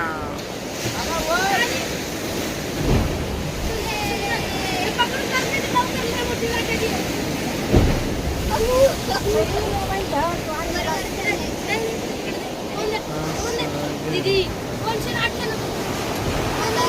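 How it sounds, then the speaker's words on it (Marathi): Big surf crashes onto the beach at Diveagar on the Konkan coast, a steady roar of waves with wind buffeting the microphone and a few louder breaks, while people talk and shout over it. "लाटा एवढ्या मोठ्या आहेत मित्रांनो"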